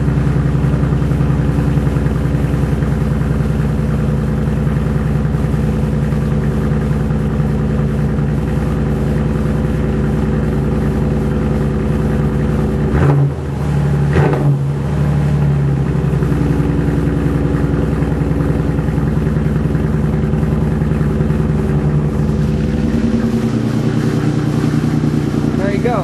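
A 1993 Oldsmobile Cutlass engine idles rough and loud with no muffler, a steady low drone that holds throughout, with a brief dip partway through and someone talking over it now and then.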